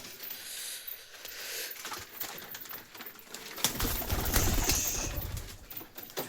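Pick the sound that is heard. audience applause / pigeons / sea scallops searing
pigeons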